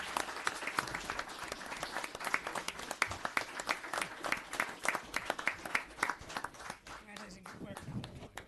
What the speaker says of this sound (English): If I could get a big round of applause for Officer Brian Bennett.